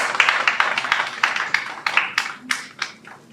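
A conference audience gives a speaker a round of applause: a small group claps in uneven bursts that thin out and fade toward the end.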